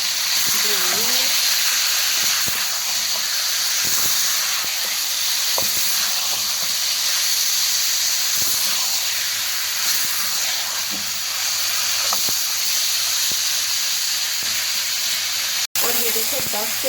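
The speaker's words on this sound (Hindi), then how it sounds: "ये देखो 10 से 12 मिनट हो गए हमें मटन को भूनते हुए।" Mutton pieces frying (bhuna) in a karahi pan for Turkish karahi, giving a steady, continuous hiss and sizzle at close range, with faint kitchen clatter now and then.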